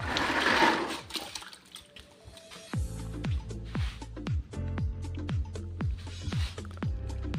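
Water pours and splashes from a hydrogen electrolyser as it overflows, followed by a series of hollow glugging drips and gurgles at an uneven rhythm, fairly close.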